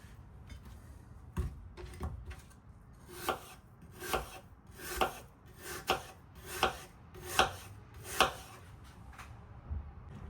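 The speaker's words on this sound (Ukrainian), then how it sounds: "І зараз буду нарізати такими скибочками." A knife cuts apples into slices in steady, evenly spaced strokes, each a crisp crunch against a board, close by with no talking.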